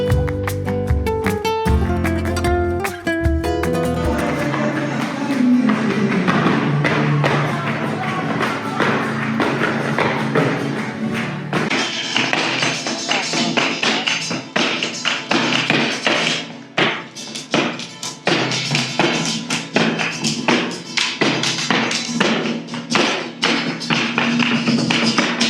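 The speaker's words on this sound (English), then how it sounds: "there is a flamenco show going on just here in the middle, and it looks like from the sound of it, there is one going on right now" Flamenco footwork at an outdoor show in Plaza de España, Seville: rapid, sharp heel and toe taps in dense rhythmic bursts over guitar-like music, fairly close and steady throughout.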